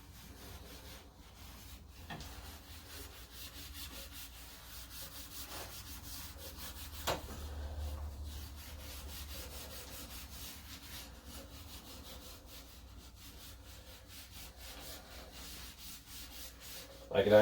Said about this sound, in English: this is sort of a Scotch-Brite itself in the SOS pad, and I can see it's cleaning it up quite a bit